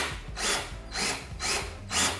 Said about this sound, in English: So our last option is to drill through them.